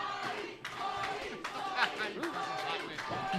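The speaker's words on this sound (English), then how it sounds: "That's why they're chanting." Crowd at an independent wrestling match cheering and chanting loudly in pulsing waves, with individual shouts standing out and a commentator talking over the noise.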